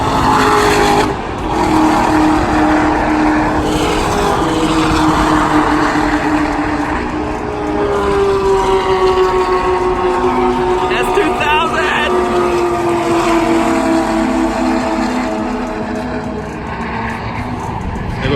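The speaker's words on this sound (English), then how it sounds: "So here comes some of the cars here." Bees hum and buzz steadily nearby in a Cotswolds garden in England, a soft droning that swells and fades as they move, with faint bird chirps behind.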